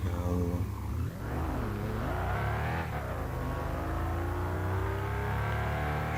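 A car engine hums steadily with rising and falling revs as the vehicle drives along, fairly close and continuous throughout.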